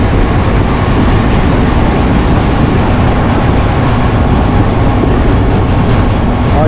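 Marvi Express passenger train on the line toward Tharparkar running at speed, a loud continuous roar and rumble heard close up with no break.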